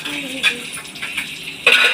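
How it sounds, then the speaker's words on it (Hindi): Dishes, pots and utensils clatter while being washed in a home kitchen, with sharp metallic clinks and scrapes at irregular intervals and a louder clatter near the end. "बर्तन बर्तन बर्तन गाइस, सोते सोते बर्तन साफ करो।"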